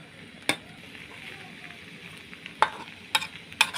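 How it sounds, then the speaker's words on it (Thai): Vegetables are stir-fried in a pan for pad see ew, a quiet sizzle broken by a few sharp scraping and clanking strokes of the spatula against the pan. "ผักให้ผัด ผักมันสลดก่อนจ้ะ"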